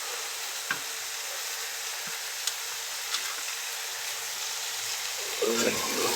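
Tomato curry is stirred in a pan over a steady, soft frying hiss, with a few faint spoon knocks against the pan and a slightly louder scrape near the end.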